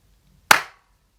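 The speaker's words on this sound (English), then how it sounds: "Oh, that was a loud clap." A single loud hand clap rings out close by, a sharp crack that fades within a fraction of a second against an otherwise quiet room.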